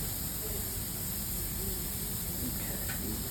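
Tomatoes and other vegetables sizzle on a Weber Family Q grill beside cooking Adana skewers, giving a steady, close hiss that holds evenly throughout.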